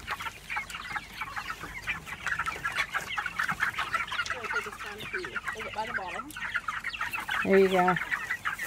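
Meat chicks peep and cheep continuously in a brooder as they are lifted out to move to a pasture pen, with a brief louder call near the end and quiet talk in the background.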